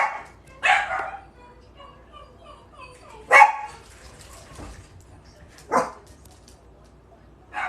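Dogs bark indoors at home in sharp, loud bursts spaced a few seconds apart, with a quieter murmur of activity between the barks.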